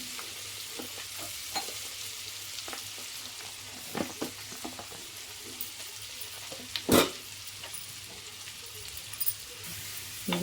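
Onions and red chilli frying in a pan, a steady close sizzle broken by the light scrapes and taps of stirring, with one sharper clatter midway.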